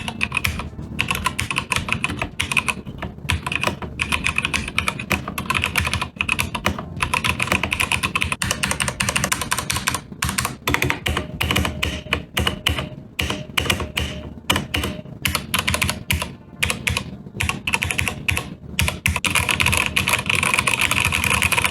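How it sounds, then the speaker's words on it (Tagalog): Typing on a Keychron K8 keyboard with Gateron red switches, a rapid, steady stream of light clacking keystrokes heard close up with no talking. "This is the Keychron K8 with Gateron red switches."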